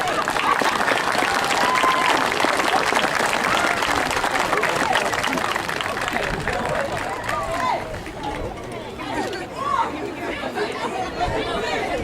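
Audience applause at a school dedication ceremony, a crowd clapping steadily amid loud chatter and voices, the clapping fading and giving way to scattered talk in the second half.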